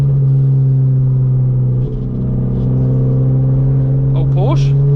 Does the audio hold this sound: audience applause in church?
no